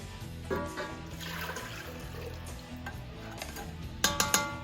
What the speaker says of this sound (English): Brown sugar. Give that a quick stir.